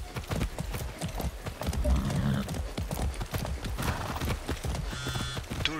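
Horse hooves gallop in the video game Far Cry 6, a fast, steady clip-clop rhythm running throughout, close and fairly loud, with a short whinny mid-clip and a person talking over it.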